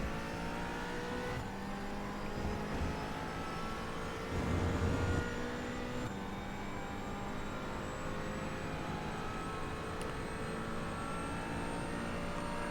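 A McLaren 570 GT4 engine held at full throttle around Silverstone in a racing game, a loud sustained drone with a steadily climbing pitch and a brief rougher swell partway through.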